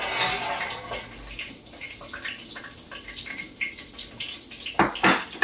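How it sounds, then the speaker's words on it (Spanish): Water is poured and splashes while bean gorditas are being made, bright trickling and dripping sounds with scattered clinks, ending in a louder burst of splashing near the end. "Vamos a ocupar también un poco de agua"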